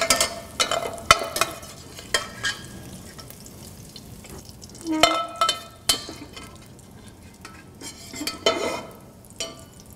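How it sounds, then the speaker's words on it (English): Green peppers, onions and celery sautéing in bacon fat for Cajun red beans and rice, with soft sizzling and intermittent stirring and scraping clatter close by, no voices. "I want to cook these vegetables down in the bacon fat until they're soft and slightly translucent"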